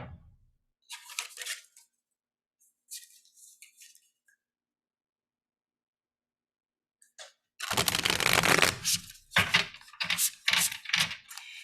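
A deck of medicine woman oracle cards is shuffled in close, crisp riffling bursts, with a few short flutters, a long quiet gap, then a denser run of rapid card slaps.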